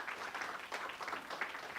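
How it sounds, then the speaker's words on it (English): An audience gives a short round of applause, soft and somewhat distant, with a rippling texture of many hands clapping together for a couple of seconds. "give Kevin a round of applause"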